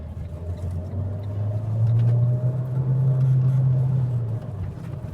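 Cars and a taxi passing in traffic on Avenida Brasil, a loud, close, steady engine rumble that swells and fades over several seconds.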